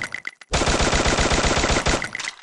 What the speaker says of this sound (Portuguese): Vai que é XM8 aqui, ó. M8. XM8 também tem velocidade de disparo,